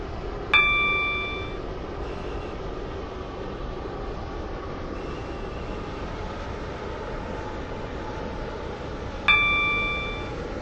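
Class 707 train running in the Stepford County Railway game, a steady rumbling interior drone throughout with two short bright chime dings near the start and near the end.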